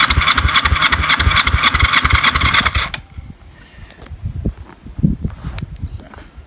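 A Honda EN450 bobber motorcycle engine runs loud and rough with the throttle held wide open for about three seconds, then cuts out, leaving quiet clunks and handling noises.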